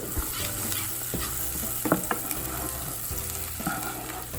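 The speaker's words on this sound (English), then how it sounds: "what we're gonna do is give them one last stir" Browned, caramelized onions are stirred in a frying pan, with a continuous close sizzle and a few sharper scrapes of the spoon against the pan.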